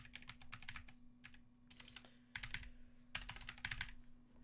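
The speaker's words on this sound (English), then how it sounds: "Typing is difficult." Quiet bursts of rapid computer-keyboard typing, several clusters of clicky keystrokes with short pauses between them over a faint steady hum.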